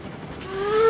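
A train in the Railroads Online video game running full throttle downhill, its steady rumble building louder with a rising whistle-like tone emerging toward the end.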